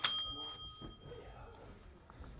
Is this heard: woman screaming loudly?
no